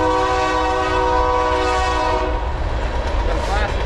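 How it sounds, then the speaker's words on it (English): A local freight train passes nearby with a long, steady horn blast that fades after a couple of seconds, leaving a continuous rumble of rolling cars. "We got a passing local freight train."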